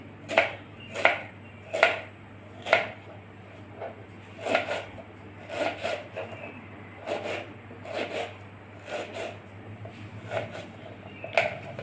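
Two onions being chopped with a knife on a board, about a dozen crisp, evenly paced knocks close by, with no speech.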